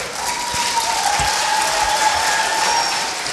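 A talent show audience applauds a contestant, a dense, loud and even roar of many hands clapping for a few seconds in a large hall.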